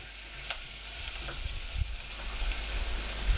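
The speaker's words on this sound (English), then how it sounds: "Then the capsicum and stir, cook until soft" Capsicum sizzles in a hot pan with garlic while being stirred, a steady close frying hiss broken by a few soft scrapes of the utensil, with no talk.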